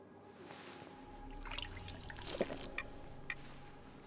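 Irradiated water dripping and trickling in Fallout London, a soft continuous liquid patter with a few distinct drips standing out against a low ambient hum.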